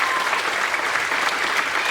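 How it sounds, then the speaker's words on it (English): A school audience applauds a fifth grade chorus with a steady, even wash of clapping that holds at moderate loudness throughout, with no voices over it. "Round of applause again for them, please."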